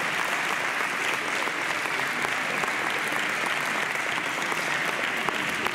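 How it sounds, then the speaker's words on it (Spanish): Sustained, even applause from a crowd at an outdoor pala and rubber-ball paleta tournament final held for charity in a Spanish village, a steady dense clatter of many hands continuing throughout without talk. "todos los jugadores se merecen un aplauso,"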